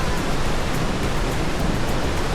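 A large waterfall in South Iceland, a lower drop of about 36 feet, gives a steady, loud, broadband roar with no breaks and no voices.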